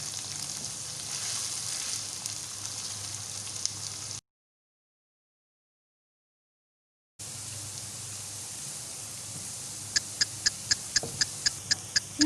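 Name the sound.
frying onions with garlic ginger paste and green chilies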